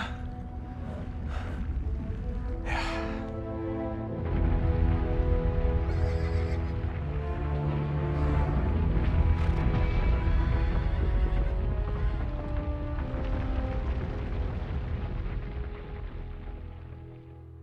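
A horse in the video game Uncharted 3 gives several loud whinnies early on, then hooves clip-clop steadily beside a rushing, rain-like wash and music-like tones for the rest of the scene.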